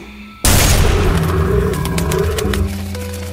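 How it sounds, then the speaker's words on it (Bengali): A single loud gunshot blasts suddenly out of near-silence, followed by a long, rumbling echo that slowly fades. "সঙ্গে সঙ্গে একটা গুলির শব্দ শোনা গেল"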